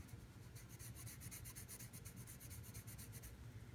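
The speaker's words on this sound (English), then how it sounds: "I'm going to fill in this area with my pencil." Pencil shading on paper to blend values, a steady soft rasp of graphite rubbing back and forth with a quick regular stroke rhythm, close and quiet with no talking.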